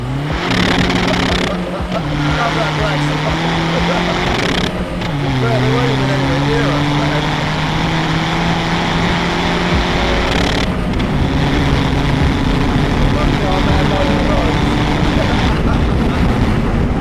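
A VW Polo PD130 diesel with a big turbo accelerates hard on the road, its loud engine rising and falling through several gear changes, heard from inside the cabin with people talking over it.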